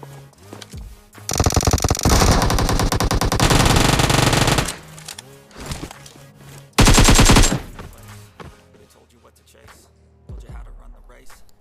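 Bursts of Uzi submachine gun fire in the mobile battle royale game BGMI, two long rapid rattling volleys and a shorter third burst, loud and close, with quieter game ambience between them.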